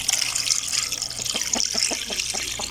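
A fish head, from a rock fish, is rinsed under running water in a village kitchen, with a steady splashing trickle and a series of quick, regular sloshes as it is rubbed clean.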